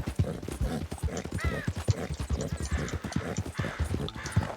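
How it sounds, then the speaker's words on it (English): A horse galloping in Red Dead Redemption 2 gives a close, loud, fast, rhythmic run of hoofbeats that continues without a break, with a brief whinny-like squeal over it. "Man, this horse even kind of feels fast."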